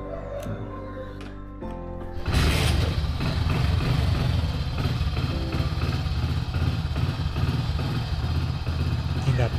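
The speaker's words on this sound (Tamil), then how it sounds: "2010 ஹீரோ ஹோண்டா ஸ்ப்ளெண்டர்." A 2010 Hero Honda Splendor motorcycle engine idling, starting quieter and then jumping into a louder, steady low chugging rumble that continues close by for the rest of the clip.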